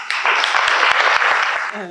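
An audience breaks into applause at a conversation event, a dense, loud wash of clapping lasting under two seconds.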